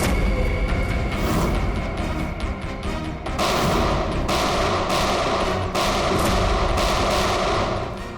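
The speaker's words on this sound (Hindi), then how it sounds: "firing range" Loud, dense gunfire at a firing range, with rapid overlapping shots and booms in sustained bursts that fill the whole stretch.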